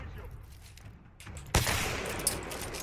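Gunfire in Titanfall 2: after a quieter stretch, a single sharp shot cracks out, followed by a dense rush of fire and noise that continues to the end.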